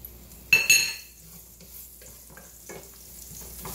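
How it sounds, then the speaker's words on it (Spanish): Garlic sautéing in oil in a pan, a sharp crackling burst at first followed by a soft continuous sizzle, with light clinks of a utensil against the pan, close and fairly quiet. "para sofreír el ajo con el aceite"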